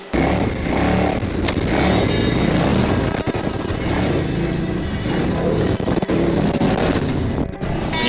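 A motorcycle ridden across open desert gives a loud, continuous engine drone that rises and falls slightly as the throttle changes, heard close up and alone with no talking.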